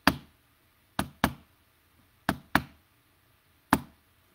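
Six sharp knocks sound during a ritual reading, spaced unevenly in pairs and singles, each crisp and close with a short decay against near silence.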